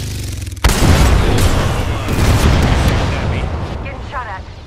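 Apex Legends gunfire and a heavy blast go off close and loud, a sharp boom followed by a long rumbling roar that slowly fades, with game voice chatter over it.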